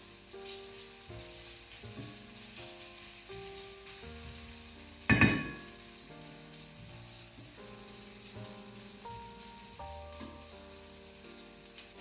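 Potato pancakes fry in a non-stick pan with a steady sizzle that runs throughout, rising in a brief louder burst midway, with soft tonal music underneath.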